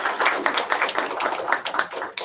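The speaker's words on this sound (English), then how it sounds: "I think they deserve a round of applause for keeping it short." A room applauds four speakers at a technology centre relaunch, with a brisk, continuous patter of many hands clapping at moderate volume.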